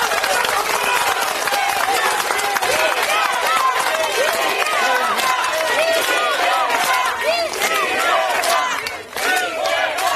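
Large crowd at a political rally cheering and applauding loudly and continuously, a dense wash of clapping and shouts with voices mixed in throughout.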